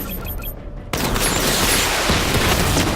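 Batmobile missile barrage firing in Batman Arkham Knight, starting with a sudden loud blast that gives way to a dense, continuous roar of rapid launches and explosions lasting a couple of seconds.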